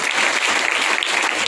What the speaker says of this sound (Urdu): ذرا تالیاں بجائیں